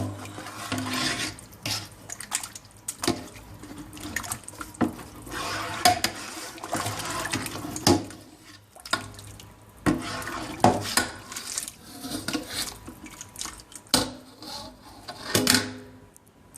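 A big spoon stirs gumbo in a pot, scraping and clinking against the metal in uneven strokes, with soft liquid sloshing and a few louder knocks close by.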